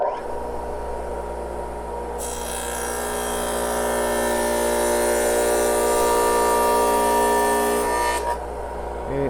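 A radial arm saw spins up and cuts a trial pass through half-inch wafer board, a loud rising whine with a bright, harsh cutting tone in the middle that drops away at the end, close up with no talking.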